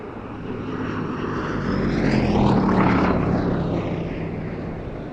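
A Gloster Gladiator biplane, the last production Gladiator I built in 1937, flies a spirited display at a Duxford airshow, its propeller engine droning loudly as it passes, swelling to a peak and fading with a Doppler sweep.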